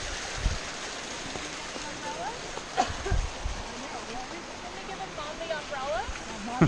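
A waterfall along the Grinnell Glacier trail in Glacier National Park rushes in a constant background wash while people talk over it, with a few brief bumps and thuds nearby.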